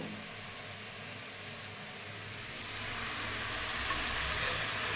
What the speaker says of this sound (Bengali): আমি মাছের মাথাটা আগে থেকে ভেজে রেখেছিলাম এখন দিয়ে দেবো